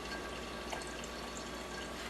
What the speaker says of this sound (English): So the beans are about here, so I'm going to fill the water.